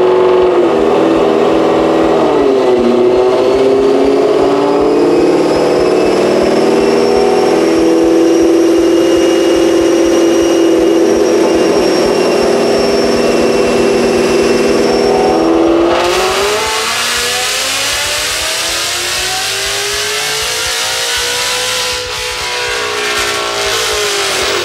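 A Roush supercharged 2018 Mustang GT roars through a long full-throttle pull on a dyno, its supercharger whine climbing steadily for about fifteen seconds before the revs drop and the engine winds down, very loud and close.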